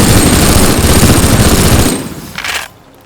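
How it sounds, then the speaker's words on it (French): Minigun fire in the game Teardown, a loud continuous mechanical roar of rapid shots lasting about two seconds before cutting out, followed by a brief fainter burst of noise and quiet. "Nos miniguns de base qu'on a dans les modes déjà préinstallés dans le jeu."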